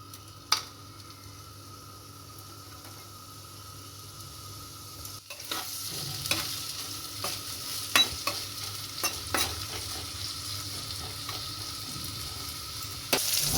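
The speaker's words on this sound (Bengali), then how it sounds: "কড়াইটাতে তেল দিলাম, পেঁয়াজ কুচি, রসুন কুচি আর একটু ক্যাপসিকাম দিলাম।" Chopped onion, garlic and capsicum fry in oil in a kadai for a home-made mutton dish. A low, quiet sizzle is broken by stirring clatters, and it grows busier and louder partway through.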